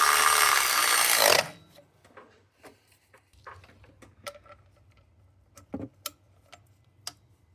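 Electric ratchet running a bolt in during a water pump replacement on a Ford 4.6 V8: a loud, dense whir for about a second and a half, then scattered faint ticks and clicks.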